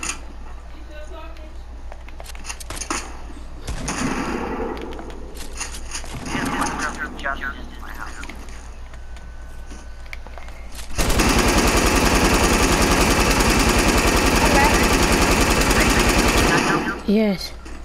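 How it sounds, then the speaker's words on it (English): Rapid automatic gunfire in the Fortnite video game, a loud sustained burst of shots in the second half following quieter scattered game sounds, with voices talking. "Where's he shooting from?"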